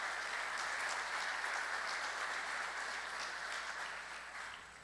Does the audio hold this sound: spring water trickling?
no